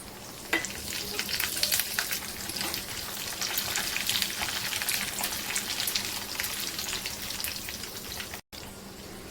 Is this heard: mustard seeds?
yes